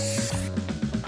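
Short spray booster sound effect from the Match Masters mobile puzzle game, a quick hissing burst with light game chimes over a steady tone, close and moderately loud.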